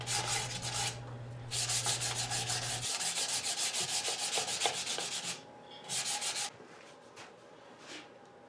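Hand sanding a turned wooden bowl with wings, a rapid series of close, raspy rubbing strokes that run in bursts with short pauses, a low hum fading out early on.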